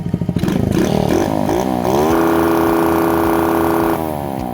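A Grom clone motorcycle engine is revved up from a throbbing idle to its rev limiter, holding a loud, close, steady buzzing drone for about two seconds before dropping back, with no talk.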